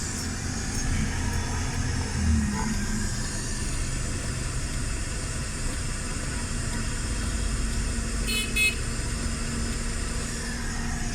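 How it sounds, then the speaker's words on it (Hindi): Suzuki Baleno engine idling with a faulty, unstable idle, its steady low rumble under constant broadband hiss with slight swells in level, heard alone without talk. "ये इसके आरपीएम जो है ना, ये अपनी पोजीशन पे नहीं आ रहा है, बार बार आरपीएम अप डाउन हो रहे हैं"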